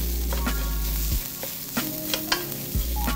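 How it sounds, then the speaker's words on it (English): Crushed red pepper and spices toasting in a hot pan for shakshuka, with a steady sizzle and several knocks and scrapes of stirring against the pan. "So I want those spices to toast for about 2 minutes or so."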